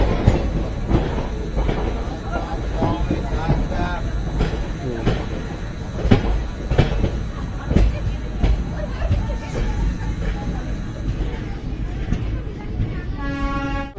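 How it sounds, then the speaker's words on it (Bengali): Kanchenjunga Express passenger train on the Sealdah–Siliguri route running on rails, with rhythmic clacks and rumbling wheels heard from inside, people chattering nearby and a horn sounding near the end. "ট্রেন তো আমাদের বেশ ভালোই চলছে"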